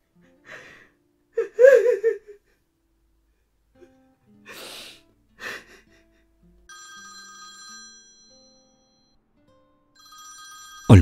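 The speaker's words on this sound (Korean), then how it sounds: "전화기 너머 통화음만 울려 퍼졌습니다" A telephone ringing tone sounds over the line after some sniffles and gasps, a short electronic ring repeating twice with gaps before a sudden loud noise at the end.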